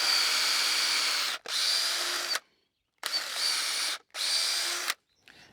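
A power drill bores into a wooden fence post for a brace pin, four sustained high-pitched whirring bursts with brief pauses between them, close and clear.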